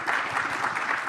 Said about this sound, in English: A round of applause for Mr. Charles Wache.